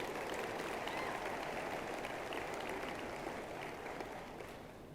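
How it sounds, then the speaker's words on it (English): Audience applause at a Mitt Romney and Newt Gingrich political rally in Lancaster, Pennsylvania: dense, steady clapping from a crowd that fills the whole stretch, easing slightly toward the end. "Round of applause."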